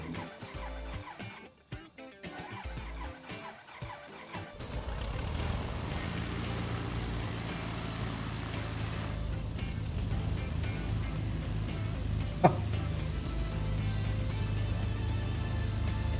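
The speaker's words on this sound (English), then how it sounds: "Let's start these engines" Twin piston engines of a BN-2 Islander in a flight simulator cranking and catching, settling into a steady, loud propeller drone with one sharp click partway through, no talking.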